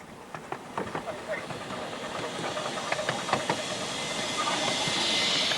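A 7¼-inch gauge miniature railway train rumbles along with clattering wheel clicks and a rising steam hiss, growing louder as it approaches.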